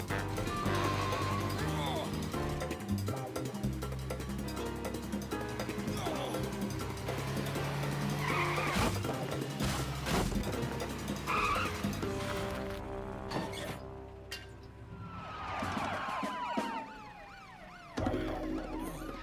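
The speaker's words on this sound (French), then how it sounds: "les pneus crissent et la voiture s'élance dans un bond spectaculaire" Car tires screech during an animated heist chase, mixed into a busy score with sirens and crashes under a narrator's voice, the squeal rising near the end as the convertible leaps.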